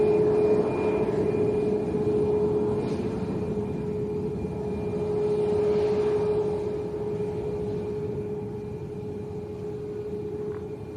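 A plane at Lanzarote Arrecife airport gives off a steady, moderately distant engine drone with a sustained whine, swelling slightly mid-way and then easing, heard without talk.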